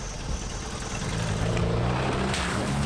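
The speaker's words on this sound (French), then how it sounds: "tout en douceur, le pneu patine mais évolue sans arrêt" A Peugeot 205 fitted with 4x4 tyres drives slowly with its engine droning and rising slightly as the tyres slip, steady and close with no talking.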